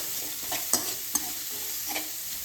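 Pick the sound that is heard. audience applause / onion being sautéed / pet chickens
onion being sautéed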